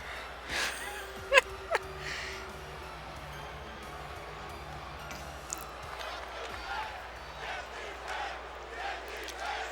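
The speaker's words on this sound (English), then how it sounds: "Apparently the fans are cheering right for Braun Strowman against Lars Sullivan here tonight" A WWE 2K20 wrestling arena crowd roars at moderate distance as a steady wash of cheering, with a few sharp thuds and shouts rising above it.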